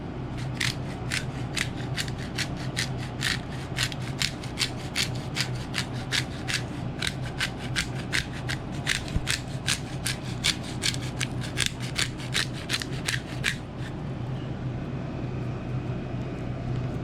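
Coarse black pepper cracked from a hand grinder over steaks, a steady run of quick, close clicking ratchet turns for about fourteen seconds over a low background hum, then stopping.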